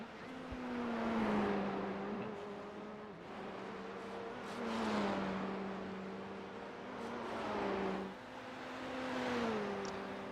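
Race car engines in an F4 sim racing game at Belle Isle, a quiet whining drone that rises and falls in pitch through repeated shifts and accelerations, steady and fairly faint throughout.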